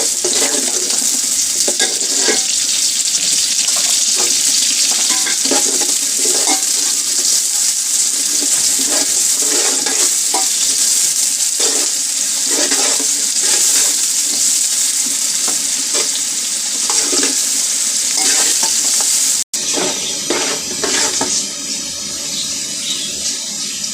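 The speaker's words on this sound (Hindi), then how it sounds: "प्याज हल्की फ्राई हो गई है।" Onions fry loudly in oil in a pot for chicken biryani, giving a constant bright sizzle with repeated scraping stirs and a sudden break near the end, with no voices.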